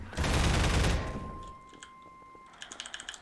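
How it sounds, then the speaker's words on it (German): Machine gun turret in Half-Life 2 unleashing a loud, dense burst of rapid fire up close, cutting off after about a second, followed by a faint sustained tone and a string of small clicks and clanks. "Und wir wissen, hier ist irgendwo ein MG-Geschütz"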